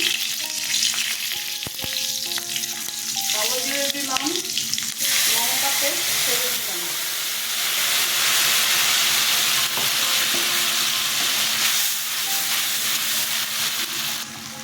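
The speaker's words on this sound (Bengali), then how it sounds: "কাঁচা লঙ্কা ফোড়নে দিলাম" Green chillies drop into hot mustard oil for tempering an ilish fish curry, setting off a loud, continuous sizzle and hiss with stirring scrapes, swelling louder partway through.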